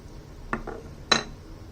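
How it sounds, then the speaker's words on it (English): Thin, worn milk glass shard found in a creek clinks lightly against another hard object, two or three small sharp taps close by in a quiet setting. "Piece of milk glass maybe, kind of thin milk glass here."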